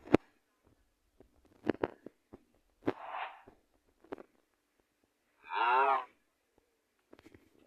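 Cattle kept by livestock herders low nearby, two mooing calls, one short and one longer and fuller, set among scattered knocks and thumps in an otherwise quiet space.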